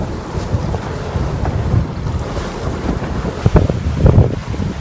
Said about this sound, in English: There's water over the bow.